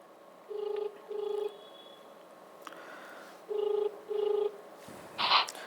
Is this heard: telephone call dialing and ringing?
yes